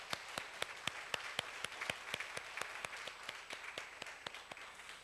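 A church congregation at a Sunday worship service claps in a steady, brisk rhythm of sharp, evenly spaced claps, moderately close and fairly quiet, with no voices.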